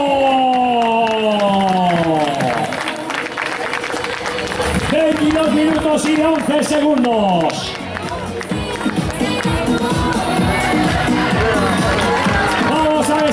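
Spectators at a charity running race finish line clap and cheer steadily as runners arrive, with an announcer talking loudly over the crowd throughout.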